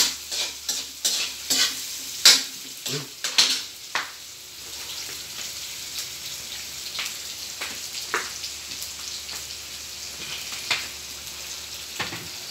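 Spaghetti sauce sizzles and fries in a pan, with a spoon scraping and stirring in irregular bursts at first, then a quieter steady sizzle close by.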